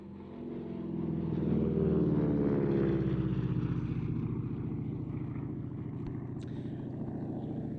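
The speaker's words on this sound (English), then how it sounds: "This aircraft you see here in front of you is a Pratt & Whitney 600 horsepower, 9-cylinder, radial, noisy engine" A Harvard 2A warbird with a 600 horsepower nine-cylinder Pratt & Whitney radial engine runs up nearby, its deep pulsing throbbing drone swelling and then holding steady and loud.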